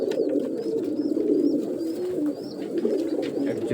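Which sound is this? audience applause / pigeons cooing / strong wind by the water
pigeons cooing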